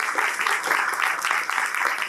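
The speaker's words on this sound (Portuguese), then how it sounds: "Palmas para os nossos trabalhadores." Audience applause for event workers at a political gathering, a steady wash of many hands clapping throughout, fairly distant and even.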